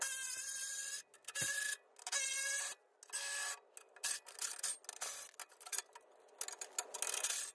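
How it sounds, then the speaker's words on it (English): A hand ratchet backs out skid plate bolts under a Jeep Wrangler JK in quick bursts of rasping clicks, with short pauses between runs, close and fairly quiet, no voices. "and then I'll just ratchet them out"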